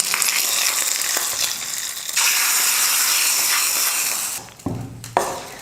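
Sizzling tempering of mustard seeds, cumin and curry leaves poured into chana dal chutney, a loud continuous crackle and spit that dies down near the end with a few clinks of the pan.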